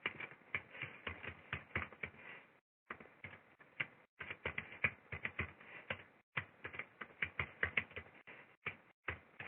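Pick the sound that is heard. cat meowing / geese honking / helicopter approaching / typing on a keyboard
typing on a keyboard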